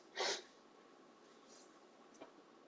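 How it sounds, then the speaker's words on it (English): A single sharp sneeze bursts out loud and close near the start, followed by quiet room tone and a faint small noise later. "Damn these sneezes."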